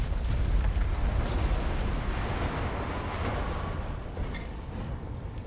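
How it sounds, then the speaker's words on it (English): Dense barrage of laser fire and explosions from mechs fighting in the video game Battletech, a continuous loud roar of overlapping blasts and bursts with no pauses. "Barrage of lasers."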